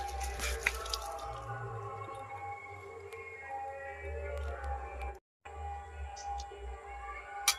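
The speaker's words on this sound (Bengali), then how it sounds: "ঝোলটা ফুটে গেছে, এবার মাছগুলো দিয়ে দেব।" Pieces of rohu fish go into a boiling thin curry broth with drumstick and potato. Quiet, wet squishes and soft dripping splashes sound up close, broken by a brief moment of silence.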